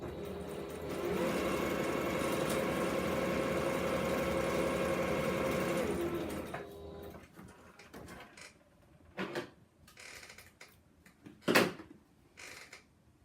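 A sewing machine hums in a steady, continuous run for several seconds, then stops, followed by a few scattered clunks and handling noises.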